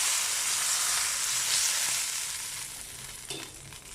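Butter sizzling steadily on a preheated grill pan before a bread slice goes on for a chicken tandoori sandwich; a loud, continuous broadband hiss and crackle, close by and alone, easing slightly toward the end.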